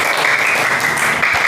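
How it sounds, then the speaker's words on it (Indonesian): A classroom group claps together after a pupil's presentation, a loud, dense burst of hand clapping that fills the room with no talk over it. "Beri tepuk tangan."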